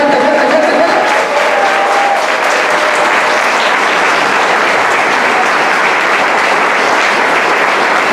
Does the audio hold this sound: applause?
yes